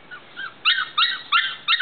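Young cream-colored female puppy on its first time outdoors, giving several short whimpering howls in close succession, fairly near and clear with no talk over it.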